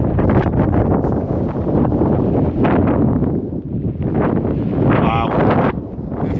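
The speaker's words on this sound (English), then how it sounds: "the wind isn't too bad now" Strong, steady wind roars and buffets the microphone on the slopes of Montana Roja crater in Lanzarote, loud and continuous throughout, dipping slightly near the end.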